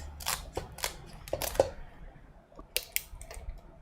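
Kitchen scissors snip through a raw blue crab being cleaned for a spicy marinated crab dish, a series of sharp, close crunchy clicks in uneven bursts with short pauses between.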